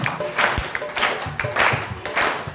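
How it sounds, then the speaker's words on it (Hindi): Rhythmic hand clapping during a devotional kirtan, steady repeated claps over a crowd-like wash, moderately loud and continuous. "भक्ति के 64 अंग से एक है कि हाथों से तालियों का सेवा करना"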